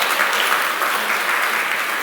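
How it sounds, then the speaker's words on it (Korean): A church congregation claps for the children during a Children's Sunday worship service, a dense, even burst of applause with no talking. "우리 같이 한번 우리 어린이들 위해서 박수 한번 하실까요?"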